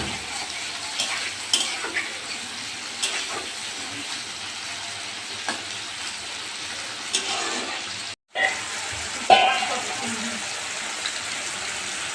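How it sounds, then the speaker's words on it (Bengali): Prawns fry in hot oil in a home kitchen with a continuous close sizzle and scattered pops and utensil taps, briefly cut to silence for a moment before the frying resumes. "খুব ভালোভাবে ফ্রাই করে নিতে হবে মাছগুলো"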